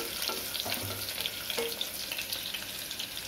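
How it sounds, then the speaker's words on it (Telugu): Chicken pieces fry in a pan toward a reddish-brown colour, producing a steady, moderately loud crackling sizzle with small popping bursts and no talking. "దోరగా రెడ్ కలర్లో వచ్చేంత వరకు వేయించుకోవాలి."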